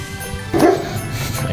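A dog barks and yips once or twice on a nighttime street walk in Melbourne, Australia, a short clear burst rising over steady outdoor background noise, with no talking.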